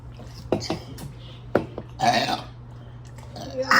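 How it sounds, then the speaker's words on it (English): Kids in a burping contest let out a loud, drawn-out burp close to the microphone, preceded by a few short clicks and gulps and followed by a shorter second burp. "Yeah, I drank fast the burp the loudest."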